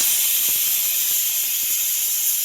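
A pressure cooker holding white chickpeas lets out a loud, steady hiss of steam, continuous and close throughout with no breaks.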